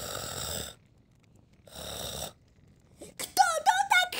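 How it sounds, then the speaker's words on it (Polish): Snoring from a sleeping character in the Toca Boca video game: two long, buzzy snores, each followed by a quiet pause, then a voice starts talking. "Kto to tak chrapie do jasnej ciasnej?"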